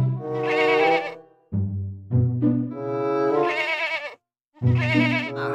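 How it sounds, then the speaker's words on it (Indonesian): Sheep in the video game Jurassic World Evolution 2 bleat several times, loud and close, with long wavering calls separated by short pauses and no talk over them. "ternyata di sini ada domba"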